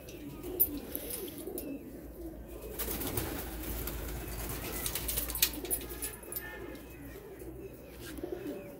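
Golden pigeons kept for flying coo softly in a loft, low repeated calls under a background of rustling and wing noise, fairly quiet and close.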